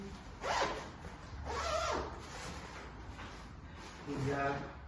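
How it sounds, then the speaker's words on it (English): Wheel bags for a racing wheelchair being zipped shut while packed into an INVICTUS bike box, with several quick rasping zipper strokes close by, separated by brief pauses. "they zip up nicely"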